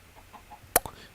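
Chickens clucking in the Minecraft video game, with two short, sharp clucks close together near the end after a stretch of quiet low ambience.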